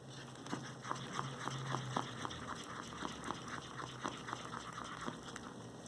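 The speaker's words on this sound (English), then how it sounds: "So it's been already 3 minutes that my resin is mixing" Resin stirred and mixed in a cup, a soft scraping and tapping with repeated faint clicks as the stick moves, steady and close with no talking.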